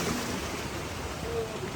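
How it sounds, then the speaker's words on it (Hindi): Waterfall and rushing stream on the Kinnaur Kailash Yatra mountain trail, a steady broadband roar of falling water with no breaks, fairly loud and constant, with wind mixed in. "किन्नौर कैलाश यात्रा का जो झरना है वो शुरू हो गया है।"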